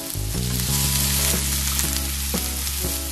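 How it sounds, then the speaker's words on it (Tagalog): Garlic, ginger and onion sauté in a hot pan for chicken tinola, a loud close sizzle with a few clacks of stirring, steady and alone. "Sotay lang po natin na hanggang sa mag-translucent yung ating onion"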